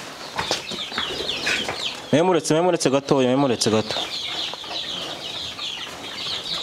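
Chickens at a poultry farm cluck and flap their wings close by. A person talks over them throughout, and a loud, wavering call rises briefly in the middle.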